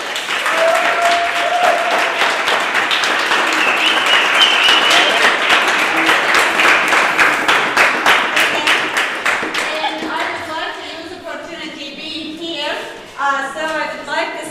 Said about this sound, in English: So applause to the team